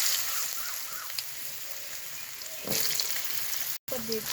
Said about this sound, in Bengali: আলুটা আগে হালকা করে একটু ভেজে নেব